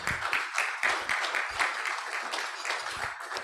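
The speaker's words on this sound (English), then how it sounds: "he deserves a round of applause for that" An audience at a Rotary club meeting in Melbourne gives a round of applause, a dense, steady patter of many hands clapping together at moderate distance for several seconds.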